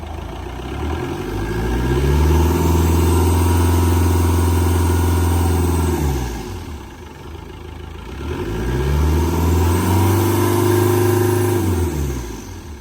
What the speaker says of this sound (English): If I just rev the car up, hopefully that should show some boost.